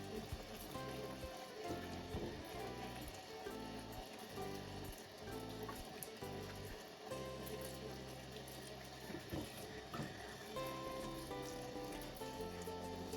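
Running tap water splashes steadily over Chinese yam being rinsed in a sink, a soft, continuous wash of water with faint handling noises and no talking.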